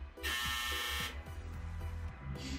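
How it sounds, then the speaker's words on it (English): A game-over buzzer from the Super Mario Maker video game blares as one steady, loud electronic tone for about a second, over a soft rhythmic backdrop of game music. "That's a buzzer, meaning game over."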